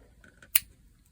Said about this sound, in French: couper mon fil comme ça